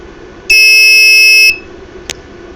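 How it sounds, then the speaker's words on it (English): A buzzer on an ESP32 project board gives one steady, loud electronic tone for about a second, then cuts off, followed by a faint click. "that is the buzzer"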